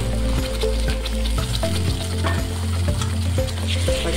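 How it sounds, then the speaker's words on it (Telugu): Ginger garlic paste fries with onions and green chilies in a pan, a dense, continuous sizzle with repeated stirring and scraping strokes at a steady rhythm, close and fairly loud. "పచ్చివాసన పోయే వరకు ఫ్రై చేసుకోవాలి."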